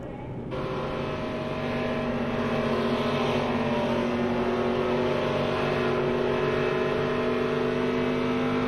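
A loud, sustained race car engine drone with a steady pitch at the Daytona ARCA Menards race, rising abruptly at the start and holding constant throughout.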